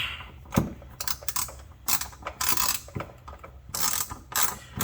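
Ratchet wrench tightening two 10 mm bolts while changing the fuel filter on a Toyota Tacoma SR5, rapid clicking pawl bursts in repeated short strokes, close and fairly loud, with no speech.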